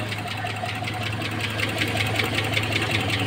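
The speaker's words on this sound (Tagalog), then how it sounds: "May naririnig akong knocking." A car engine idles steadily with a persistent rapid knocking tapping through it, a close, continuous mechanical clatter over a low droning hum with no pauses.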